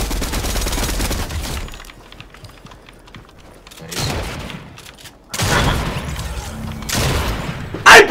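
Rapid gunfire from Fortnite gameplay, bursts of automatic shots and booms in loud stretches separated by quieter gaps, dense and close.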